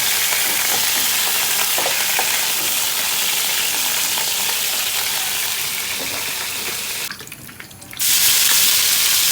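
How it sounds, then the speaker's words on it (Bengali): Food lightly fried in a pan for a chicken rezala dish, a loud continuous sizzle with occasional stirring clinks that drops out briefly near the end before resuming. "ভাজতেছি, এটা হালকা একটা ভাজা দিতে হবে।"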